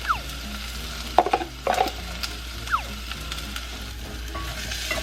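Green onion, onion and chili powder frying in oil in a pot to make chili oil, with a steady low sizzle and a few sharp spatula scrapes and clinks, no talking.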